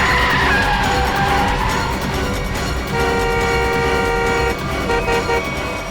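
A car with failed brakes skids in a loud, continuous screech that runs through the whole stretch, mixed with horn-like tones and no talking.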